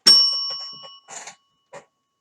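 A single bell rings from the intro of a song, one bright metallic strike with a long ringing tail, followed by two short, fainter knocks after it dies away.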